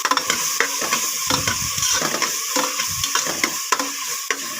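Tomatoes with a pinch of turmeric powder sizzling in a hot pan while being stirred, a steady crackling fry broken by repeated scraping strokes of the spoon, close and loud with no talking.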